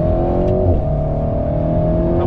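Alpine A110S with aero kit under full throttle on the Clastres race circuit, a loud steady engine drone holding a sustained note close by, with no talk over it.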